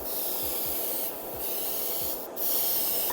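Chrome spray paint hissing from an aerosol can onto a knife prop replica in light sweeps, a steady close hiss broken by two brief pauses between passes.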